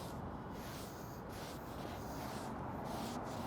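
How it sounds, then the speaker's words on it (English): A rag rubbing oil into the surface of a Yoder Smokers cast iron griddle makes a steady, soft, close-up wiping hiss that continues without a break and has no talk over it. "We've got our rag, just kind of work that into the surface."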